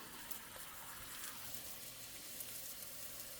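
A taco shell frying in a pan of hot oil, making a soft, steady sizzle with faint crackles throughout, fairly quiet and with no voices.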